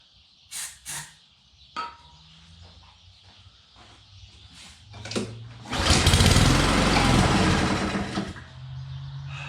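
A small lawn mower engine on starting fluid is cranked with recoil pulls, sputtering briefly before catching into a loud, rough burst of running for a couple of seconds, then dying back to idle noise.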